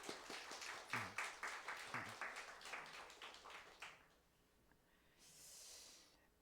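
A church congregation stands and claps to welcome its elders: about four seconds of quick, rhythmic, fairly faint applause in a quiet room, then it dies away into near silence.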